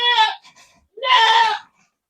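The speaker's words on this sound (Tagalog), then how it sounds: "Ayun na, mga makukulit na kambing." Two loud, close goat bleats, one short and one longer, separated by a brief pause.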